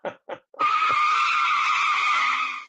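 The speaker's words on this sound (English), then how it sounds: "You heard them brakes screeching?" Brakes screech in a sustained high-pitched squeal lasting about two seconds, loud and close, preceded by a couple of short bursts of noise.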